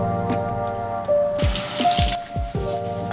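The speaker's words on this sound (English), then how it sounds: "I'm thinking about putting them in the sink again though and giving them another little wash and drying them out" Holiday decorations rinsed under a running tap in a sink, with a steady water stream, several hollow plopping drips and splashes, and a brief louder gush midway, close and clear without talking.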